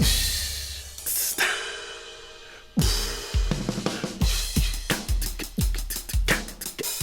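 Big drum intro from a drummer's recording for a Logic Pro track, with sustained cymbal wash giving way to a fast, dense run of loud tom and kick hits that build into a driving rhythm.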